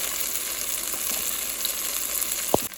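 Vegetables sear in a hot pan for a pulled pork barbecue sandwich, giving a steady, close sizzle and crackle throughout, with a brief louder clatter near the end.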